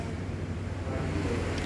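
LG T2185NBTS top-load washing machine running its spin cycle with slight vibration, a steady low rumbling hum, close and continuous.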